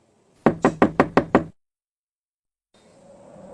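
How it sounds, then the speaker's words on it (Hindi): Six quick, sharp raps on a door land in an even, rapid run, close and loud, followed by silence and then a faint rising background hiss. "उसी वक्त किसी ने मेरे दरवाजे पर दस्तक दिया।"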